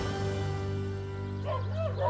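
A teenage Bedlington terrier gives a few short, high yips and barks near the end, close by over a steady low electrical hum in a home.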